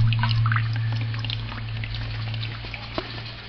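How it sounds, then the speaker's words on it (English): Water trickling slowly through the condenser of a reflux still, a faint steady flow with scattered drips over a constant low hum, no voices. "Water is just flowing"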